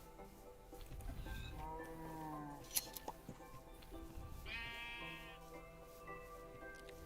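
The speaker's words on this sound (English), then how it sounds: "There's some sheep and cats." Sheep bleat faintly in a video game village, with a couple of short, quavering bleats and a cat-like call mixed into quiet game background sound.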